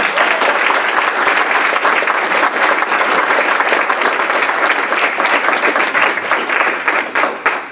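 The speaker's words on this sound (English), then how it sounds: "I think we want to give one last applause." A room full of people at a school board meeting breaks into loud, sustained applause, dense clapping that holds steady for several seconds before tapering slightly at the end.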